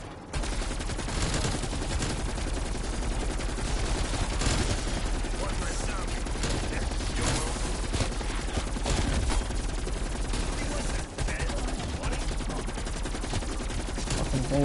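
Rapid video game gunfire shooting at zombies, dense bursts of automatic shots rattling continuously and loudly, with a voice talking in between.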